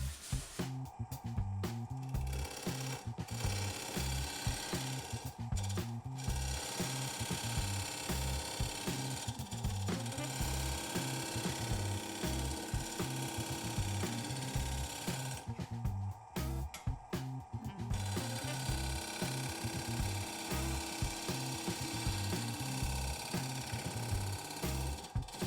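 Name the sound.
wood lathe turning a spalted alder bowl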